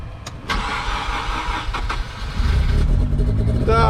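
A Mazda RX-8 rotary engine cranks briefly, catches and settles into a rough, rising idle up close, with a few sharp clicks early on and no voices over it.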